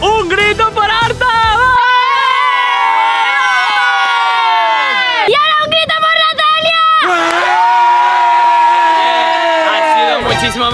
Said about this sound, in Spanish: Chicos, un grito por Arta